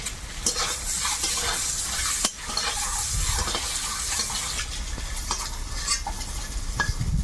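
Eggs sizzle loudly in a hot pan while a utensil stirs and scrapes through them, with occasional sharp clinks against the pan.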